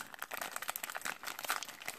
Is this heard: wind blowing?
no